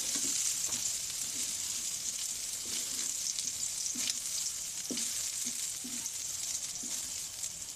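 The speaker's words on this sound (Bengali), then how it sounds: "এই তেলে এই সয়াবিনগুলো ভেজে নেব।" Soybean chunks fry in hot oil in a steady, even sizzle that runs through the whole stretch, with a few soft knocks of stirring and no voices.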